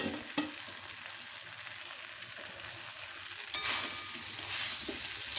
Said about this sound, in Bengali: ভালোভাবে কষে নেব।